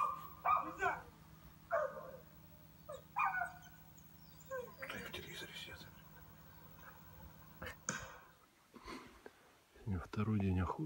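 Dogs bark in short bursts on a hunting trip in the Khanty-Mansiysk wilderness, loud and fairly close, with quiet voices and a steady low engine hum underneath.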